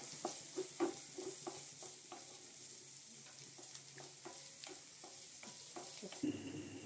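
Crushed ginger and garlic sizzle and fry steadily in a pan while a spoon stirs them with repeated scraping knocks, all close up with no voices.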